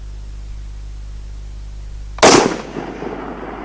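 A single loud, sharp report from a Howa HLR 6.5 Creedmoor rifle fired toward a target at about 805 yards. It cuts through a steady low hum and fades into a short echoing tail.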